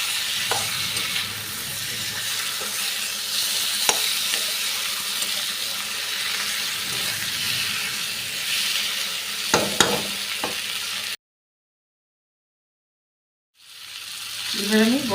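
Potatoes, raw mango and green chillies sautéing in a pan for rohu fish curry, a steady close sizzle with occasional spatula knocks, then a sudden silence before the frying sound returns.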